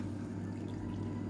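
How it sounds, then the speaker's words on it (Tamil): Water poured generously from a cup into a pot for horse gram kanji porridge, a steady close rushing splash with a low hum beneath. "தண்ணி தாராளமாகவே சேர்த்துக்கலாம்"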